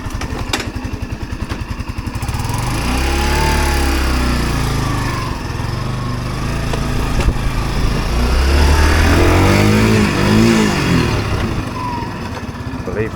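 A Yamaha SR125 motorcycle putters at idle, then its engine rises and falls twice as it rides up and down a street, close and fairly loud.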